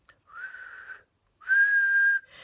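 A person whistles during a singing lesson, two sustained notes in close succession, the second louder and steadier, then a brief third tone starting at the end.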